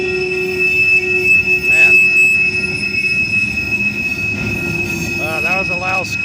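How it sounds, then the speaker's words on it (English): Freight train of tank cars rolling past between Sampson and York Street in Houston, wheels giving a loud, sustained high-pitched squeal over a steady rumble of rolling stock, with brief squeal bursts near the end and someone speaking briefly. "that was a loud squeal."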